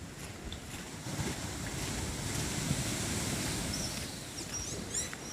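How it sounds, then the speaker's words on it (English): Ocean waves breaking on shore at full tide with little swell, near Schooner Bay and Speightstown, a steady rushing wash of surf with wind noise throughout and faint higher chirps near the end. "even from here you can hear the lovely waves breaking"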